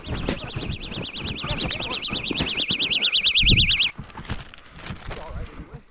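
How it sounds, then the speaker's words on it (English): An alarm goes off during an ice fishing outing in Alaska, a loud warbling electronic tone cycling rapidly for about four seconds before cutting out abruptly, with people talking and moving around underneath. "I heard that alarm go off"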